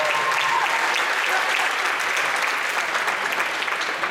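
Steady, continuous audience applause at a high school jazz band fall concert, a loud dense wash of clapping filling the room for the whole stretch with no break.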